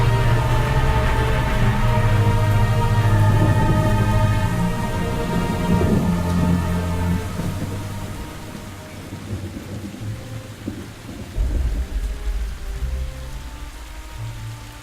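Thunder rumbles over steady rain in a video game, a loud low roll swelling early and fading after about seven seconds into softer rainfall with a few renewed gusts, no voices.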